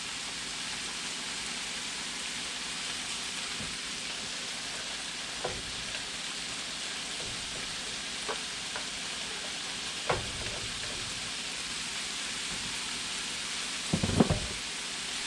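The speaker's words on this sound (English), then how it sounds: "I'm just going to let that saute very briefly so it doesn't become bitter" Garlic sautés in a pan with onions, green peppers and mushrooms, a steady soft sizzle running throughout with a few light utensil clicks and a louder stir near the end.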